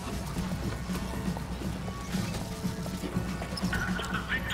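A horse in the video game BioShock Infinite, heard as steady clip-clopping hooves and whinnying over continuous game ambience.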